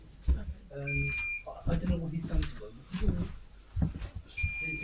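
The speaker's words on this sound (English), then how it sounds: "buzzing noise. That was the doorbell." An electronic doorbell buzzes and beeps in short bursts while people talk over it nearby.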